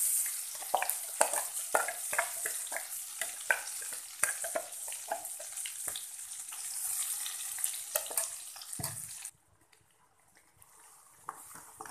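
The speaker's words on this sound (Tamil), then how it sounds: "இதை நம்ம நல்லா வதக்கிப்போம்." Ground coriander chutney sautés in oil with popped mustard seeds, crackling and sizzling up close under repeated scraping stirs, then the frying cuts off abruptly and only faint clicks remain.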